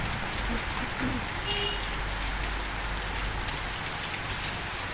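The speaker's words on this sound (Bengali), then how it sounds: "শুধুই বৃষ্টির আওয়াজ" Heavy monsoon rain pours steadily in Kurseong, a dense, even hiss of drops drumming on surfaces close by, constant and loud throughout with no voices.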